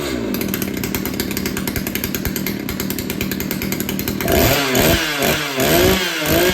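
A ported CS 590 chainsaw fitted with a stock deflector with holes drilled in it runs close by, droning steadily at first and then revving hard into a louder, rasping roar with a couple of throttle surges.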